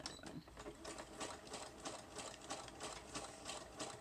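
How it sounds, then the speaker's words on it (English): A sewing machine stitches a paper journal page, giving a steady, rapid mechanical clatter close by and at a fairly low volume, with no talking. "So I'm just gonna sew the top and the bottom of just this side"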